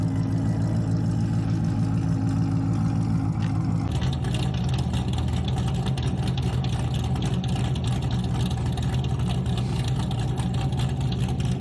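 A cammed C5 Corvette engine rumbles steadily at idle, a deep, loping, uneven burble that stays loud and close throughout, with a slight shift in tone partway through.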